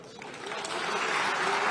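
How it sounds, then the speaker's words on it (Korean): Applause breaks out from one side of the seats in South Korea's National Assembly chamber: a dense, steady clatter of many hands that swells slightly and holds for under two seconds. "한쪽에서는 박수를 치고"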